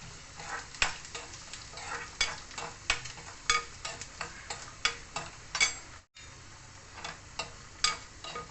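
Coriander seeds and cumin frying in a pan, stirred with a spoon, giving a steady close sizzle broken by repeated sharp clicks and scrapes of stirring, with a brief cutout near the end.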